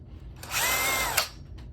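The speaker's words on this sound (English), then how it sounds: "So I'm gonna take my drill bit" A short burst of a power drill boring a hole in leather, whirring for under a second, high-pitched and close, spinning up and stopping abruptly.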